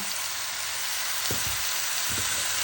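Oil sizzles steadily in a frying pan while cooking arepa con carne, a continuous bright hiss with a few soft low knocks from the pan partway through.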